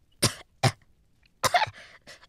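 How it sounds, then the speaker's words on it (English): A woman coughs up water in a string of wet, harsh coughs: two sharp bursts, then a longer sputtering cluster and a fainter final cough, close and otherwise quiet, as an audiobook sound effect. "She coughed up huge mouthfuls of water."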